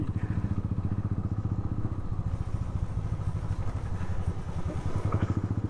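A motorcycle engine runs steadily with a rapid rhythmic putter, loud and close as the bike rides along an unlit road without pause.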